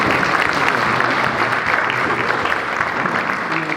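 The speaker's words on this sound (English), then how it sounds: "So big round of applause again." An audience gives a performer another round of applause at a showcase, a full, steady burst of clapping filling the room with faint crowd noise underneath.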